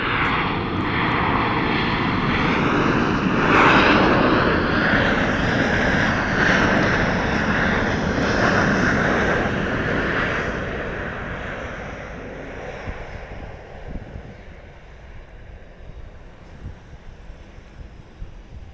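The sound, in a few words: Southwest airliner at Dallas Love Field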